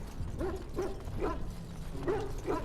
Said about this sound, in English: Release the hounds! You're free, dogs.